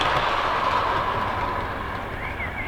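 An Accurascale OO gauge Siphon G coach in ambulance train livery runs along model railway track with a steady rolling whir and rattle, close and continuous, with a faint squeal near the end.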